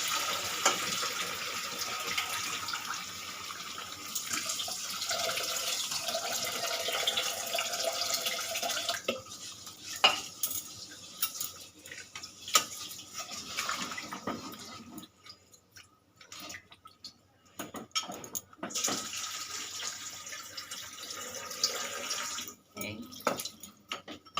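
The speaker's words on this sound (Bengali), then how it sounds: "এবারে আমি দিয়ে দেব পরিমাণ মতন জল" Water poured into a pot of rooster chicken curry, a steady splashing flow for several seconds that thins into scattered drips and clinks, close and moderately quiet.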